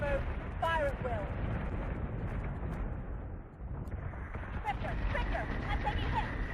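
Warship secondary battery firing in Battlestar Galactica Deadlock, a dense, continuous rumble of heavy gunfire and blasts with a few chirping tones, loud and sustained while a voice speaks over it.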